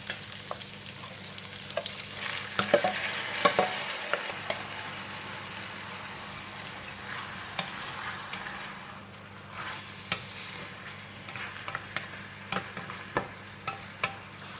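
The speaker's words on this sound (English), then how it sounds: "Alright, onion is soft, and then I'm going to throw in the meat." Pork rib meat frying with softened onion in a pan gives a steady broad sizzle throughout, with scattered sharp clicks and scrapes of stirring, busier near the start and more spaced out later.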